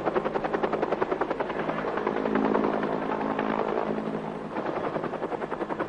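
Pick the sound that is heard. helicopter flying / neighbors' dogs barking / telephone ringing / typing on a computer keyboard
helicopter flying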